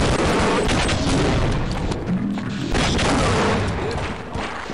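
Dense, continuous gunfire from a weapon's secondary fire mode in the video game Half-Life, loud booming shots packed tightly together with barely a pause.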